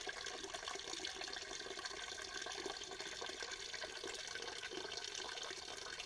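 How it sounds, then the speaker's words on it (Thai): Wood vinegar dripping steadily from a charcoal kiln outdoors, heard as a continuous watery trickle with a broad hiss and no talking. "น้ำส้มควันไม้ก็ไหลแล้วครับ"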